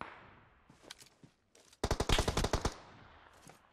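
Rapid bursts of automatic gunfire in PUBG Mobile, a few scattered shots early then a loud dense volley of close rattling fire lasting under a second, with faint shots trailing after.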